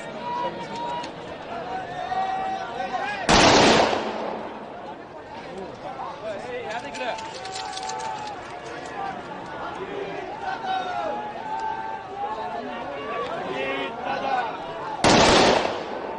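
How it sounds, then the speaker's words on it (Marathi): Guns fired into the air as a ceremonial gun salute at a state funeral event, two loud sharp bursts heard about twelve seconds apart over a steady murmur of crowd chatter and talk. "हवेत 3 वेळा फायर करून बंदुकीची सलामी दिली जाते."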